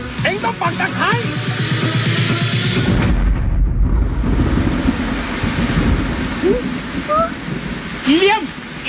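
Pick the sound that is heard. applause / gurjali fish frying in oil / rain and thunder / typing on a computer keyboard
rain and thunder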